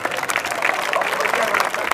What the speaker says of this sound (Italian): Qui ci vuole un applauso perché è forte